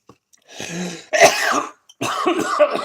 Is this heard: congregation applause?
no